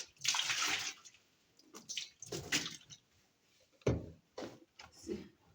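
Water draining out of a household washing machine during home cleaning, faint splashing and gurgling bursts coming in irregular spurts with quiet gaps between.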